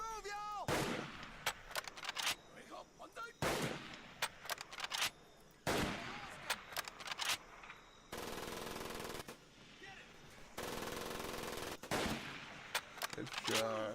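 Machine gun fire from an enemy nest in the PC game Medal of Honor: Pacific Assault, loud and close, with rapid repeated bursts, scattered single gunshots and explosive booms, plus stretches of steady battlefield noise.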